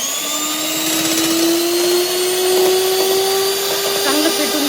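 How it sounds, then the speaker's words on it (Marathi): Three eggs beaten with an electric mixer for a 1 kg cake batter, a steady close motor whine running unbroken throughout. "चांगलं फेटून घेऊया आपण हे अंडे आता।"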